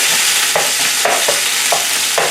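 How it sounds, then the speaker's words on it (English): Steak strips and bell peppers fry in a hot pan with a loud, constant sizzle. A spatula stirs them in about four quick, evenly spaced scrapes. "So now will be a good time to give them a quick stir."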